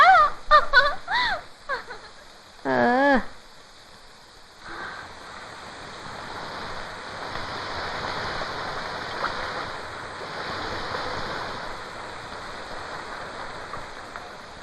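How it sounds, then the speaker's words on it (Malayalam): A few short voices at the start, then a steady, even hiss of rain falls continuously for the rest of the clip. "ഹായ്, മഴ."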